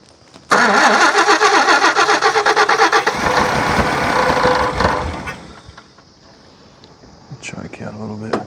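An old G60 Nissan Patrol 4x4 engine cranks and catches with a loud, rough start, settling into an uneven idle, then faint revs and a voice nearby.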